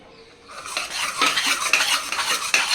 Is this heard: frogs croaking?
no